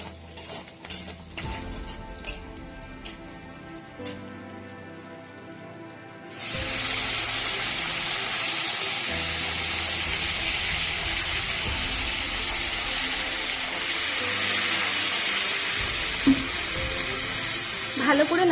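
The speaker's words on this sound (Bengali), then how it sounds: "টমেটোটাকে ভালো করে নাড়তে হবে যাতে টমেটো একবারে গলে যায়।" Tomato and green chili frying in a pan, quiet clinks at first, then a loud sudden sizzle that holds steady as the mix is stirred, close up with no voices.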